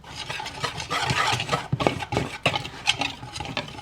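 A wooden spoon stirs salt and baking powder into oat flour in a bowl, giving a close, continuous rustling scrape with a few sharper taps against the side.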